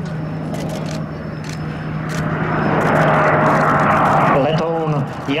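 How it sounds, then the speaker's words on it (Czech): A Saab JAS 39 Gripen fighter flies slowly at its minimum speed over Čáslav aerodrome, a loud, steady jet roar that swells and holds across the pass, with a faint voice near the end. "Letoun JAS 39 Gripen na své minimální rychlosti 180 km za hodinu."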